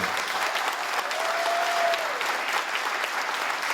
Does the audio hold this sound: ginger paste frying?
no